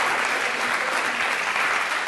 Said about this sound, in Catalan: Fora aplaudiment per tots els equips.